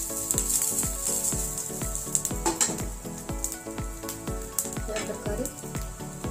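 Garlic, cumin and chillies roast in a hot pan, a steady sizzle and crackle with a regular rhythm of stirring scrapes, close by, and someone talks briefly over it.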